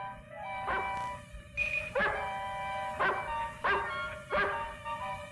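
A dog barks in a string of sharp, separate yelps, about five barks spaced roughly a second apart, with a droning musical tone running under them and no talk.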